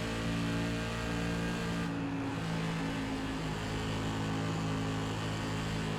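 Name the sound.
SK Modified race car engine in iRacing video game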